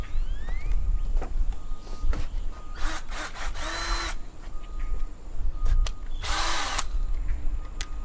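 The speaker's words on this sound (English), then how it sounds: "Okay, so I've got my drill, got my 1/2 inch bit, and basically go right here" A power drill fitted with a 1/2 inch bit whines loudly in several short bursts and bores a hole, over a constant background hum with some clicks and handling noise between runs.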